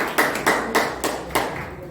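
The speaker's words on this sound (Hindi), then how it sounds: "एक बार जोरदार तालियां बजाएं।" An audience at a lecture hall claps on cue, the hands coming in about five distinct bursts of claps, each fading quickly, fairly loud and close, with no one talking over them.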